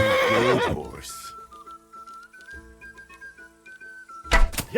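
A horse neighs loudly at the start in the video game Kingdom Come: Deliverance II, then quiet ticking and hoofbeat-like sounds over a steady tone, ending with another burst of noise.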